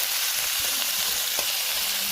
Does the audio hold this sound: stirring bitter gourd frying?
yes